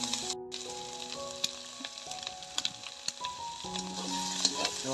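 Chicken pieces fry in hot oil for a chicken curry, sizzling steadily with scattered crackles and spatula stirs. A few tonal beeps and hums from nearby appliances sit underneath, and no one speaks.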